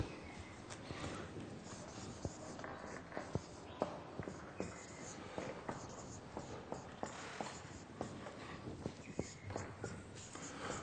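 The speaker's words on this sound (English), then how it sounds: "We'll just write it here on the board." Writing on a board in a church talk setting: a faint, steady run of tapping and scratching strokes close by, with a low background murmur.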